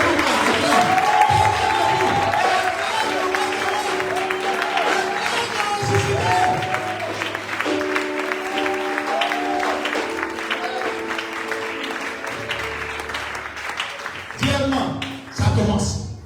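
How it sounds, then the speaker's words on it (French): A church congregation at a night vigil applauds and cheers for Jesus, a broad sustained wash of clapping and crowd voices over music and a speaking voice, fading briefly near the end before a final burst. "Est-ce qu'on peut acclamer Jésus?"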